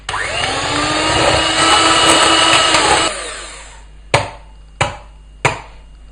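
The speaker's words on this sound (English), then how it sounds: "just mix it in first and then start whipping" An electric mixer whips Swiss roll batter of eggs and sugar with a steady, loud motor whine for about three seconds. It then stops, and three sharp knocks follow, like beaters being tapped on the bowl.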